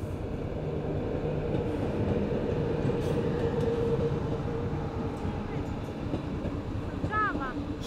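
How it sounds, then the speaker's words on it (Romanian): Train passing close by near Vatra Dornei, Romania, a steady loud rumble and rolling clatter of railcars filling the whole stretch, with a brief squeal of wheels near the end. "am prins trenul."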